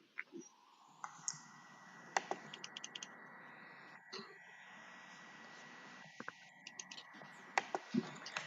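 Computer mouse clicks at a desk, a scattered run of sharp, quiet ticks spread irregularly over several seconds against a low steady room hum, with no voices.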